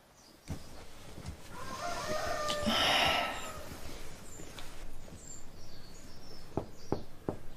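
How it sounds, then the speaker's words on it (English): An alarm sounding like a rooster crowing rises and swells over a few seconds, moderately loud in a quiet room, followed by a few sharp knocks. "What's that noise? Who knows? It's someone's alarm."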